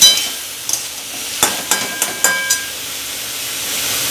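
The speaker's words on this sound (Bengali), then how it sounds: "এবার আমি ভালো করে নাড়াচাড়া করে নেব।" A curry of radish, potato and river fish in a pan, with soft hissing steam and a few quick clattering stirs clustered near the start, then a fading even hiss, close by.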